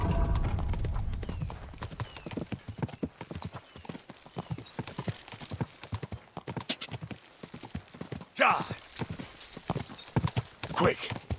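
Horse hooves clip-clop in a video game, a rapid, steady run of hoofbeats close by, with a couple of whinnies near the end, under occasional talk.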